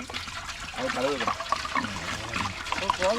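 Water pouring and trickling outdoors while meat is cooked in a grove, a steady splashing flow heard close by under overlapping voices talking.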